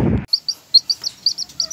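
A single newly hatched bantam chick peeps from inside an incubator, a run of short, high, clear chirps repeating at an irregular rhythm, close and alone after a brief low rumble at the start.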